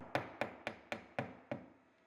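Six sharp hammer strikes drive a color-matched nail into a CertainTeed Cedar Impressions siding panel, evenly spaced and close, each crack decaying quickly, with no talking.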